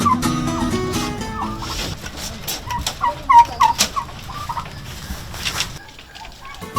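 Turkeys on a turkey farm gobble in quick bursts of rapid warbling calls, several birds close by over a low background murmur.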